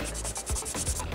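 Putty on the body of an Aoshima Lamborghini Aventador scale model gets sanded with a file in quick, even back-and-forth rubbing strokes, close and fairly quiet, with no talk.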